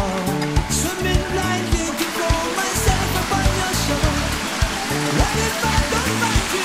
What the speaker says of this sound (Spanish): acá pasa el agua